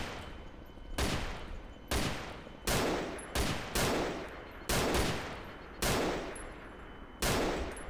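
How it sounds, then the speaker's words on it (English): Rapid volleys of gunshots in the survival video game DayZ, about eight sharp, loud blasts at irregular intervals of roughly a second, each trailing into a short decay, with no talk over them. "I'm gonna start shooting"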